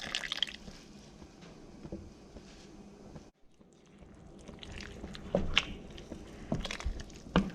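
Water, 1.5 liters of it, poured into a pot of hamburger soup with tomato already in, giving a steady liquid splash that rises into busier sloshing and dripping toward the end, with no talk.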